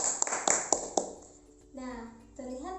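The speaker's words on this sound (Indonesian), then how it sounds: "Kita beri tepuk tangan terlebih dahulu." Classroom clapping for a student during a biology lesson, a few sharp rhythmic claps in quick succession that fade out, followed by a voice speaking.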